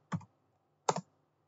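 Two separate soft keystrokes on a computer keyboard, close and quiet, spaced under a second apart with near silence around them.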